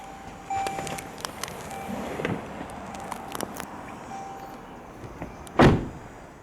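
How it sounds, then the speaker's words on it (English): The powered rear sliding door of a 2015 Toyota Vellfire 2.5 ZA runs with a steady motor hum and scattered clicks, ending in a single loud thud as it latches shut, close by with no talk. "There are 5 ways to operate the powered rear doors in this Vellfire."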